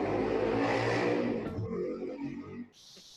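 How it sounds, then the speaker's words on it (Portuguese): A motorcycle passes by outside, its engine revving loudly at first and then fading away over about three seconds. "Passar esse barulho aqui da moto, tá horrível."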